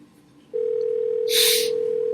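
A steady telephone dial tone starts after a brief quiet moment and runs alone to the end, loud and continuous, with a short hissy burst partway through.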